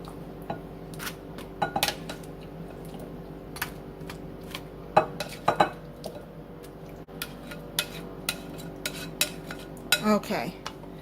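Meatballs in sauce being layered over bread in a casserole dish, heard as scattered clinks and taps of a utensil against cookware and soft wet shuffling, close and intermittent over a faint room hum.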